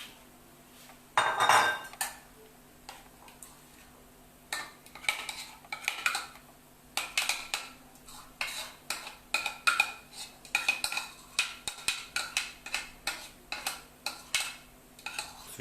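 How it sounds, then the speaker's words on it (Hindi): Fruit is mixed in a bowl with a spoon, giving a long run of repeated close clinks and scrapes in a steady rhythm after an early louder clatter. "तो मैं मिक्स कर रही हूँ अपने फ्रूट्स को।"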